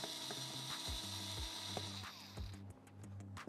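A ratcheting screwdriver clicks rapidly and loudly while screws are undone during the teardown of a Jasminer X4-Q crypto miner, over a steady mechanical whine that drops out near the end.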